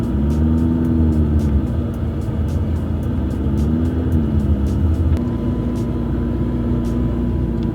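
A McLaren's engine rumbles steadily and close as the car rolls into a garage, a loud continuous low drone with slight pitch swells and faint regular ticking over it, no voices.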